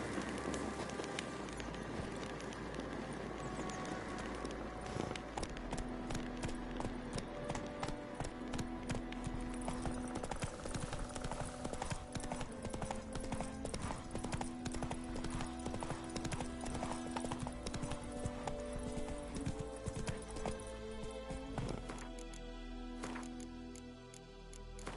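Roach the horse gallops with brisk, continuous hoofbeats throughout The Witcher 3 scene, under a steady musical score with sustained tones, and a whinny is faintly audible.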